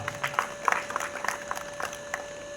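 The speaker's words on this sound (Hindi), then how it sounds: "अच्छे से तालियों से स्वागत कीजिए इनका" Sparse, scattered hand claps from an audience at a Hindi poetry-stage event, welcoming the dera chief on stage; a handful of separate claps over about three seconds, fairly quiet, with a steady tonal hum underneath.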